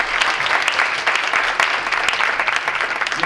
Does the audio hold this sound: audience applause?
yes